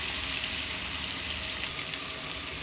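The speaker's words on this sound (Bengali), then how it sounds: "ভাজা হতে থাক," Yardlong-bean vegetable bhaji sizzles in a pan with a loud, steady, close hiss of frying oil, with no talking.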